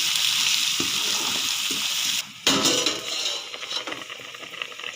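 Steady sizzling of ginger-garlic paste frying in a pan, with a metal clank and stirring scrapes partway through.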